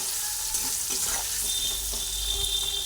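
Pieces of kakrol (spiny gourd) coated in salt and turmeric frying in a pan, a dense steady hiss of oil with faint light taps, close and uninterrupted.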